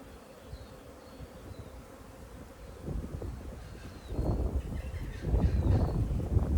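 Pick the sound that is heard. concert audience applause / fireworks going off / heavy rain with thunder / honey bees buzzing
honey bees buzzing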